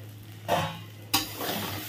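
Fried neem leaves stirred into a potato and pointed gourd curry in a pan, two distinct scraping stirs over a low background sizzle, close up with no talking.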